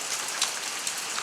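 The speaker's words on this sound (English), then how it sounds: "It's really raining here" Heavy rain pours down outdoors at a construction site during a work break, a dense, steady hiss of drops striking surfaces with no pauses, filling the scene loudly and evenly.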